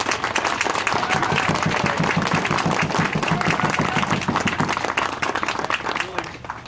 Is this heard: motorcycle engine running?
no